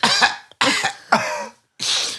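Four harsh coughs in quick succession, close and loud, the last one breathier after a short pause.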